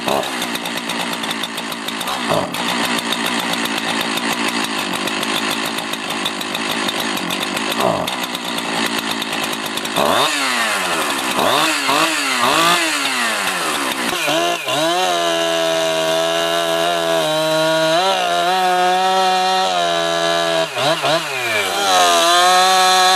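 A Jonsered 2071 chainsaw runs loud and close, first holding a steady high idle-to-revving drone, then bogging and rising repeatedly as it cuts through logs, with pitch sweeping up and down across each cut.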